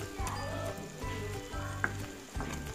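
Golden fried onions and two spoons of ginger-garlic paste sizzle in oil for a fish curry, a soft steady frying hiss broken by a few clinks and scrapes of a spoon stirring, fairly quiet and without talk.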